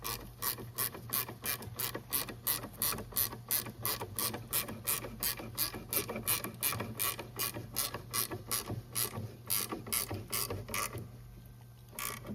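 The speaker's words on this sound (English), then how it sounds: "now we're gonna tighten those down" A ratchet tightens rear sway bar link nuts on a 2007-2014 Ford Edge, giving a long, steady run of loud, evenly spaced clicks close by before stopping near the end.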